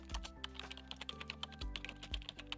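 Keys clatter in a quick, uneven run as someone types a text prompt on a computer keyboard, close and fairly quiet, with brief pauses between bursts and no talking.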